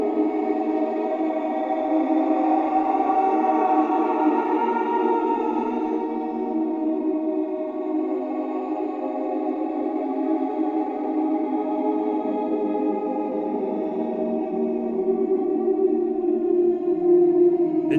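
A swelling, reverb-drenched ambient atmosphere from a song: dense layered sustained tones and drones wash steadily for the whole stretch, loud and continuous, shifting slightly in texture midway, with no voices over it.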